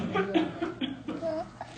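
A person gives a short demonstration cough into the elbow during an infection lecture, a few brief bursts mixed with light laughter from nearby listeners.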